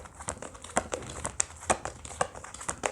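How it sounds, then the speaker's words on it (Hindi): Tarot cards being shuffled close by, a quick series of crisp papery riffles and flicks in an uneven rhythm, with no talking. "आपके सामने ही शफल कार्ड्स करूँगी मैं"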